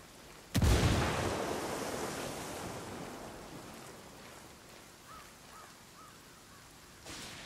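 A frag grenade detonates in Ghost Recon Wildlands with a sudden loud boom, then a long rumbling tail of debris and echo that fades over several seconds. Faint chirps follow, and a second sharp burst lands near the end.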